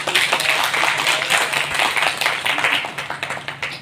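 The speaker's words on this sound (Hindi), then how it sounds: "तो मैं चाहूंगा कि जोरदार तालियों के साथ स्वागत।" An audience applauding to welcome guests at a Hindi-language event honouring Babasaheb Ambedkar; sustained dense clapping fills the hall steadily from start to finish, with a faint voice beneath.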